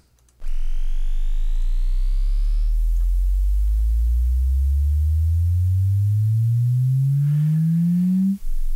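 Airwindows DitherFloat plugin test signal: a steady low tone gliding slowly upward, with a brief buzzy static layer at the start and a faint hiss floor underneath, loud and continuous.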